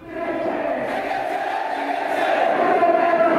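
Protest marchers with the Islami Chhatra Andolon in Dhaka, heading to the Central Shaheed Minar, chant slogans in a loud, sustained crowd roar that builds slightly and keeps going without a break.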